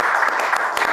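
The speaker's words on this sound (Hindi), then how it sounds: "एक बार शाहरुख भाई के लिए तालियां बजाएं" Dense audience applause for Shah Rukh Khan at a comedy show, a steady wash of many hands clapping with a faint voice mixed in, short and fairly loud.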